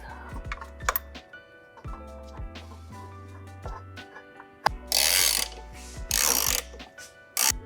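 A ratchet clicks in short bursts while bolts are tightened on an Audi Q5 transmission, with louder rattling spells of winding between quieter tool clicks and clanks, close up and without speech.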